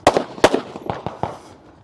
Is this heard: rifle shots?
yes